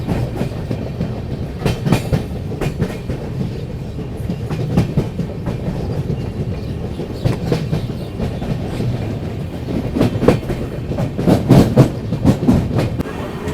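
Gorakhpur Mumbai Express train standing on a bridge just past the Ganga river crossing, giving a steady close rumble of rail cars with repeated clanking clicks and knocks throughout.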